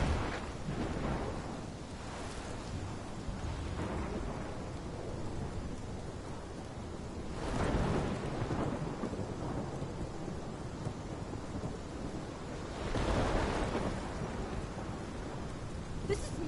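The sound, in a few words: thunderstorm with thunder and rain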